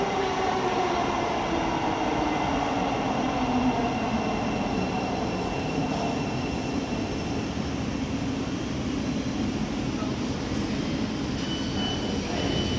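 A Thameslink Class 700 electric multiple unit pulls into a platform at London St Pancras, a steady, close rolling rumble with wheel and motor noise that holds evenly throughout, with no voices.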